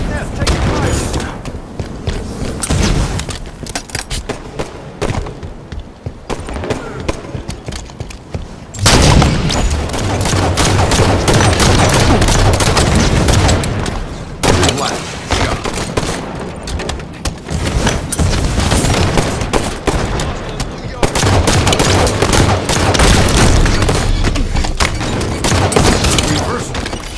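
Gunfire in a shooter video game, with rapid bursts of automatic fire and heavy booming shots in dense, loud volleys separated by short lulls, close and continuous over nearly half a minute.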